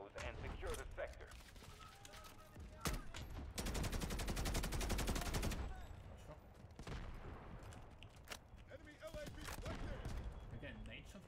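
Battle gunfire in the shooter Delta Force: Hawk Ops, with scattered single shots, then a sustained rapid automatic burst of a few seconds and more sporadic fire after, mid-distance and fairly loud, with faint voices underneath.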